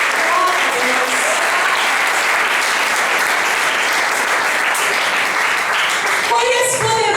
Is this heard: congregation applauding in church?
yes